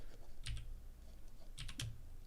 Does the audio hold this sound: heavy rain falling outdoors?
no